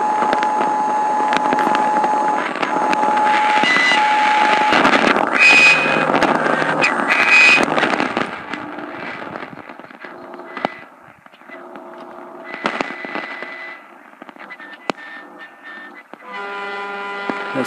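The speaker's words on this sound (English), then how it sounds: "More power line whine." Power line whine picked up on an open wire line receiver sounds as layered buzzing hum and steady tones that shift and drop in level, with brief bursts of interference and tonal squeals.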